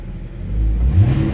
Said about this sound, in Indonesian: Nah, langsung naik ya suara knalpot ya.